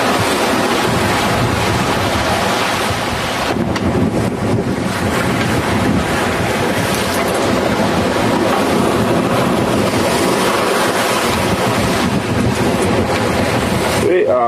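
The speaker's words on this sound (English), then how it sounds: "here's to give you an idea of what it was like sailing downwind" Wind roars and ocean waves rush continuously around a sailboat running downwind across the Atlantic, a loud, dense wash of water and buffeting microphone wind with no pauses.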